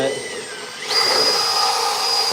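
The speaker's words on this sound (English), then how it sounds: "We're drilling a hole into my sword I'm making out of wood" An electric drill bores a hole into a handmade wooden sword to fit a steel pipe for reinforcing the handle. After a quieter start, a steady, loud whirring motor drone kicks in and holds continuously.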